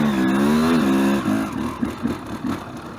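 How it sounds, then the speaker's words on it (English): A couple of ATVs pass close by near a large ATV lodge, engines rising and falling in a loud, revving drone that eases into rougher, uneven putters as they move off. "let a couple of kids on ATVs go by."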